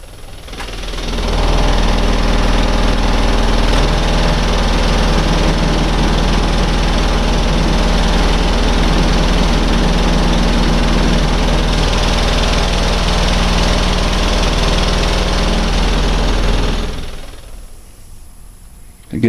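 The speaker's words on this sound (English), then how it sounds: "the noise that you're hearing, if you can hear that from over there, is the air being sucked in and out of the gaps or the vent holes on the bottom" A custom-built 15-inch BTL subwoofer playing a 20 Hz tone pushes air in and out of its bottom vent holes, making a loud, steady, deep rushing chuff. It runs unbroken for about fifteen seconds, then cuts off.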